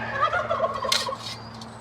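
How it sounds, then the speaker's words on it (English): Several farm turkeys gobbling together in a burst of rapid warbling calls, close and fairly loud, over a steady low hum. "the turkeys complain once I make the noise. Listen."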